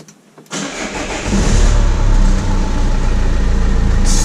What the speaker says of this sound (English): It starts nicely.